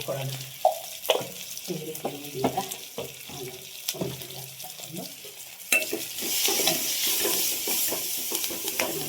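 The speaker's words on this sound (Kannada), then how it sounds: "ಬೆಳ್ಳುಳ್ಳಿ ಹಸಿಮೆಣ್ಸಿನ್ಕಾಯಿ ಕರಿಬೇವು ಜಜ್ಜಿ ಇಟ್ಕೊಂಡಿದ್ವಲ್ಲ ಒಂದು ಸೇರಿಸ್ಬಿಟ್ಟು ಅದು ಸ್ವಲ್ಪ ಫ್ರೈ ಆಗೋವರೆಗೂ ನಾವು ಎಣ್ಣೆಯಲ್ಲೇ ಫ್ರೈ ಮಾಡ್ಕೋಬೇಕು" Crushed garlic, green chili and curry leaves frying in oil for rasam, a soft sizzle with stirring clatter, growing to a steady hiss in the second half.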